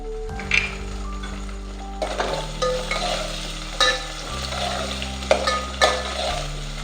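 Tomatoes and onion sauté in oil for sambar with a soft sizzle and occasional stirring knocks, set against a steady low hum, close by with no voices.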